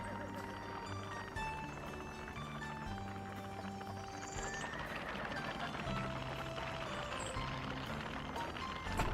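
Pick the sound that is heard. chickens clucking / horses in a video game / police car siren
horses in a video game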